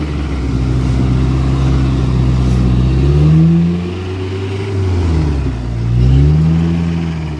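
An off-road vehicle's engine revs up and down in slow surges as it creeps forward over an obstacle at an off-road park, loud and close, with no talking.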